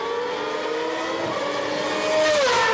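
Superleague Formula race cars roar around the Nürburgring circuit during a 2008 race, a loud sustained engine whine that builds and shifts pitch as cars pass close by.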